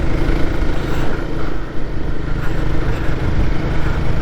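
Royal Enfield Guerrilla 450 motorcycle riding on back roads, a loud, steady engine drone with rushing wind, close and continuous, with a brief dip in level partway through.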